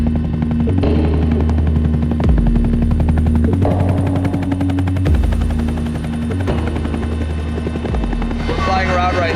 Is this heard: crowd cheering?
no